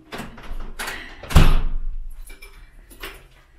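Front door of an apartment in Turkey being unlocked and opened, with rattling handle and key sounds, a sharp thud as it swings, then quieter shuffling close by.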